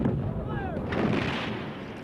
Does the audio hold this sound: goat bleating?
no